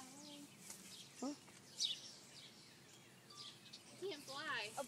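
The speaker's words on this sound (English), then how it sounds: "So Mom just had a bird hit her window." A stunned small bird chirps after striking a window, giving a few brief high tweets and short calls scattered through a quiet moment, with people murmuring nearby.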